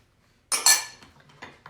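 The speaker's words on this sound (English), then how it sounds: "we're just gonna take a spoon and kind of mix those in" A spoon stirs Parmesan and shredded cheddar into beer bread dough, a short run of faint clinks and scrapes against the bowl, starting with a sharper knock and then fading into lighter taps.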